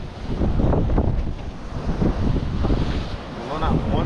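Strong wind buffeting the microphone at sea during a fishing trip off an island in rough water, a loud roaring gusty rumble with waves underneath and no clear speech.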